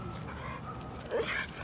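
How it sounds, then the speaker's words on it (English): A dog at a busy dog park gives a short bark over a low murmur of background activity, the sound fairly faint and brief. "Ooh, look at that dog."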